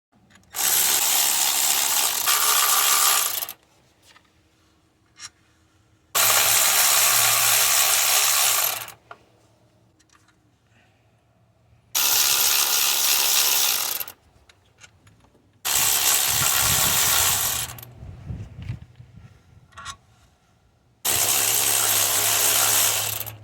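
A power ratchet spins out 10mm bolts from the alternator and AC compressor bracket on a Hyundai engine, whirring in five loud, close bursts of about three seconds each, separated by quiet pauses with faint clinks.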